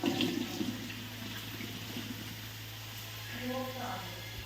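Cooking water is drained from boiled potatoes through a strainer, making a continuous rushing pour of water close by that swells again near the end, with a voice faintly present at moments.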